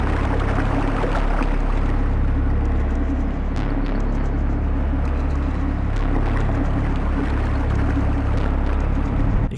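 A waterfall in the video game Ashes 2063, set in sub-caverns, roars as a loud, dense, unbroken rush of falling water that fills the whole stretch at close range.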